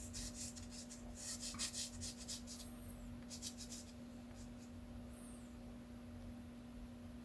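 Pencil shading across corrugated cardboard gives a soft, continuous dry rasp in uneven strokes over a steady low hum, faint and close, with no talking.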